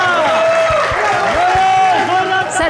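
A loud crowd at a live public event cheering and shouting, dense overlapping voices with a steady thumping beat beneath and a few claps mixed in.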